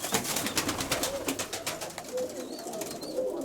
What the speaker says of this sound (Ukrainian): Вот он голубь.